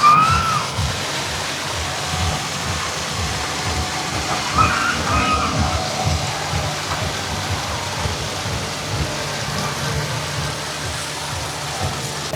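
An artificial waterfall fountain at an amusement park gives a steady broadband rush of falling water. Low crowd murmur and distant ambient noise sit beneath it, with no clear talking.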